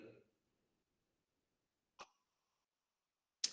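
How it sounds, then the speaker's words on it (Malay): Two short, sharp coughs a second or so apart in a quiet room, after a brief murmur of voice at the start. "Batuk lagi aku."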